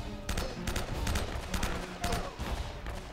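Enemy gunfire crackles in Uncharted: Drake's Fortune as dense bursts of shots and automatic fire roll almost continuously, loud and close, in a treasure vault firefight.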